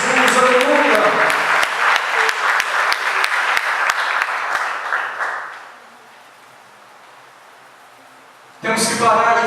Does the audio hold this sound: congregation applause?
yes